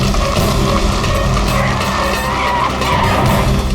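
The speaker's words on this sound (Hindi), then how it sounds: "कोई अच्छी जगह पे गाड़ी रोको सर" A car skids hard on a road, tyres squealing loudly and continuously under engine roar, close and sustained throughout.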